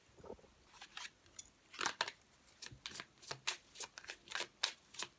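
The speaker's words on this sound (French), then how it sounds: "Je vais vous prendre maintenant une petite carte pour les premiers, deuxième et troisième décans." Tarot cards riffled and handled in a quick series of crisp, papery shuffling bursts, close and fairly quiet with no voice.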